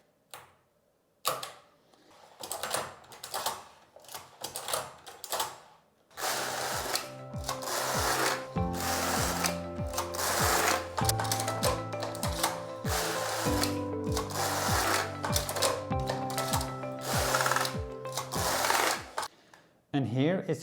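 A Passap Duomatic 80 knitting machine runs with its color changer, starting with a few sharp clicks, then settling into long stretches of loud, steady mechanical clatter and whirring from the carriage passing back and forth.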